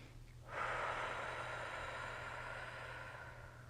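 A single deep breath drawn in before blowing a bubble during a children's yoga class, a soft airy inhale that begins half a second in and holds steady and faint above a low background hum.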